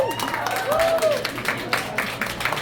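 An audience at a shopping fundraiser benefit applauds in a dense, steady wash of clapping, with voices and a brief whoop-like tone mixed in.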